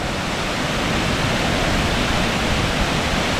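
The Great Falls of Tinker's Creek roar as a dense, constant rush of falling water, loud and steady with no break or voices.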